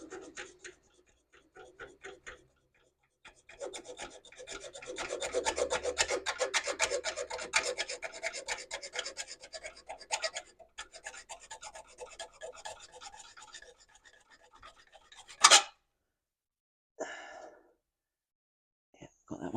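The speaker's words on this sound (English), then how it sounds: "So, junior hacksaw. Probably best cutting up, actually." A junior hacksaw cuts through a pipe in a long stretch of steady, rasping back-and-forth strokes, close and moderately loud, broken off by a few brief sharp knocks near the end; no one speaks.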